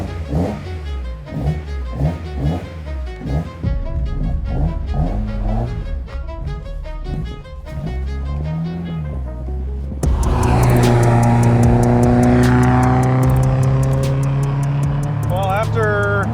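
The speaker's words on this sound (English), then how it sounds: "now it's finally time to actually drive it" An S10K car fitted with 10,000 RPM individual throttle bodies drives on a public street, engine note rising and falling with revs, then a louder, harsher intake roar with sustained high-revving tones in the second half.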